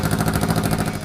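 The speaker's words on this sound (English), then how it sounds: "the rumble belted out by the left exhaust pipe is more aggressive" An abandoned classic 80s Honda motorcycle under rebuild into a cafe racer runs with an uneven exhaust, a steady close loud rumble with rapid pulsing throb and no talk.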